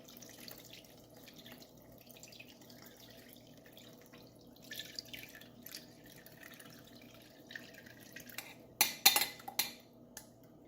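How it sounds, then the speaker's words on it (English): Lemon juice poured through a strainer into a pot while making strawberry lemon preserves: a faint trickle with light clinks, then a few louder splashing bursts near the end. "I'm gonna pour in my lemon juice. I am gonna strain it because I know I got seeds in it."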